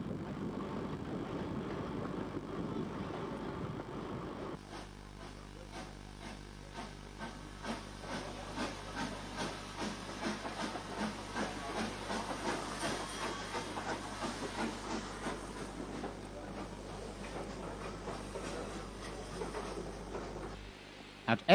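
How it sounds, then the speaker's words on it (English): An H-Class steam tank locomotive hauls a branch-line train at Cowden, with a steady, faint hiss of steam and rhythmic chuffing beats running through, the sound thinning out near the end. "Further down the line, H-Class hauled trains at Cowden."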